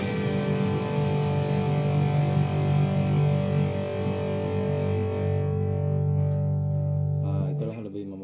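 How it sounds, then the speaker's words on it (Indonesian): An electric guitar plays through drive distortion and a noise gate pedal: a sustained, buzzy distorted chord rings loudly for several seconds, then a voice speaks as the sound is chopped off and fades near the end. "drive atau distorsi seperti itu ya, kurang lebih seperti itu ya."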